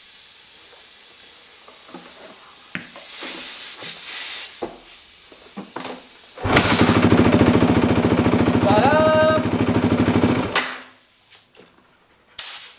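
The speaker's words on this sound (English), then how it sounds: "We give it 45 PSI and the bike is running." A Yamaha WR450 dirt bike engine, fed fuel pressurized by a compressor, starts and runs steadily for several seconds at a loud, close idle, then cuts off, with hissing and clattering workshop noises before and after.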